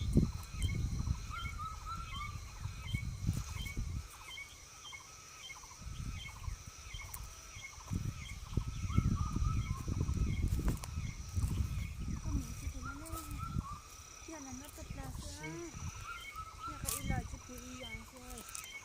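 Birds call repeatedly in an outdoor setting, with gobbling, fowl-like cries rising over a rough background. People talk intermittently over the calls.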